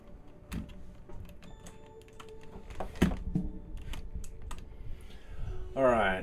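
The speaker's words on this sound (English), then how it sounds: "Also time to plug my keyboard back in time." Typing on a computer keyboard, with irregular clicks and clatters of key presses close by, quiet background noise under them, and a brief voice-like sound right at the end.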